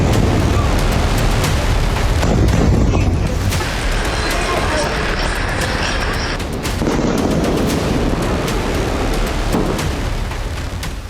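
Heavy, continuous blasts and rumbling from Iranian missile strikes exploding, with dense booming and crackling that stays loud throughout and eases only slightly midway.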